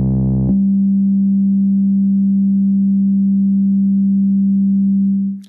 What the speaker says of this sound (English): if the decay is too high, the sound will decay so slowly